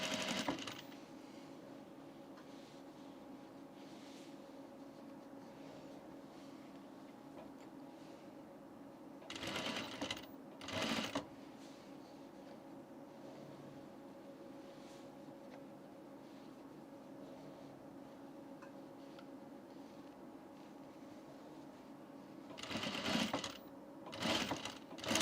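A sewing machine stitches a men's button-up shirt in a steady, continuous run, with brief louder bursts of handling and thread noise near the middle and end, and no talking.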